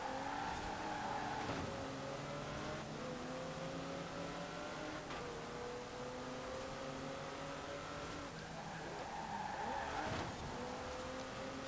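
Racing car engine in the video game Forza Horizon 4, revving continuously with repeated gear shifts as pitch climbs and drops, steady and prominent throughout at low level.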